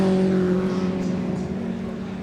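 Historic race cars at the Goodwood Revival circuit, engines droning with steady harmonic tones as they pass, a continuous loud roar fading slightly toward the end, with a faint voice underneath.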